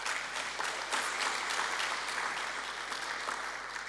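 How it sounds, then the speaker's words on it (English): Conference audience clapping at a national biennial conference, a brief, steady round of many hands with a rhythmic pulse, moderately loud and fading slightly toward the end. "Can we clap hands for her?"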